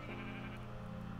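A sheep in the video game Minecraft gives a single short, nasal bleat that fills the brief moment, close and clear with no talking over it.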